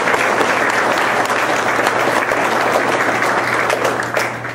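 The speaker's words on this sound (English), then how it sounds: "I'll give those two guys a round of applause" Loud, sustained audience applause fills the room at a coaching event, a dense even wash of clapping from a large crowd that thins slightly at the end.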